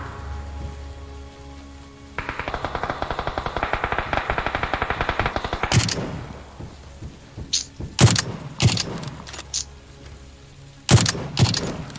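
Gunfire in an online shooter game: a rapid stream of automatic shots rattles for several seconds, then scattered single loud cracks ring out amid rain-like ambient noise.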